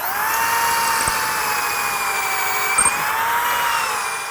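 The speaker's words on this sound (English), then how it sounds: "You're basically drilling pocket holes" A power drill bores pocket holes in wooden face frame rails, its high-pitched motor whine running continuously and loudly close by with only slight pitch wavering.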